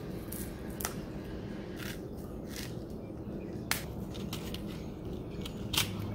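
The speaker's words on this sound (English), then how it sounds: "I need the scissors." Scissors snipping open a cecropia moth cocoon, a few sharp, separate clicks and crisp cuts spread over several seconds above a low rumbling background, with no voices.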